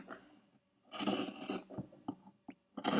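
Scissors cut through the fabric seam allowance of a pillowcase, trimming a thin sliver off. Soft, close snips and scraping rustles come in irregular bursts, with short quiet gaps between them.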